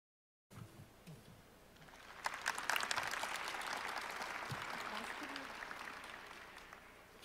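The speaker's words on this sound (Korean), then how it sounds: "큰 박수로 환영해 주시기 바랍니다." Audience applause welcoming the chief campaign committee chairman at a People Power Party rally, starting quietly and swelling into steady, broad clapping that holds for several seconds with no talk over it.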